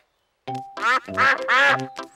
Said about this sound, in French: Oh, ce sont les canards.